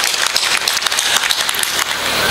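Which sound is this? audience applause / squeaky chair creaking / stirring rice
audience applause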